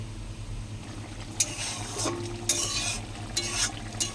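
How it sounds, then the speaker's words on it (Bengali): Onions frying with nigella seeds, green chilli and ginger paste while being stirred in a pan, a steady low sizzle with a handful of scraping stirs spaced through it. "কালো জিরে দিয়ে পেঁয়াজ দিয়ে একটু কষাচ্ছি"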